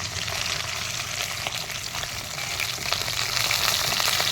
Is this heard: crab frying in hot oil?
yes